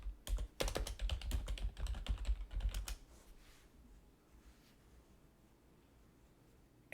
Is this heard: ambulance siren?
no